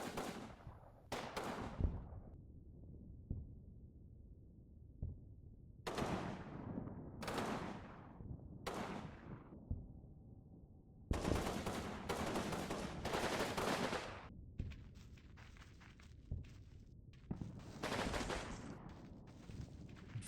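A squad lays down gunfire across the way, with sharp bursts and single shots cracking at irregular intervals and a long sustained volley in the middle, ringing against a quiet background.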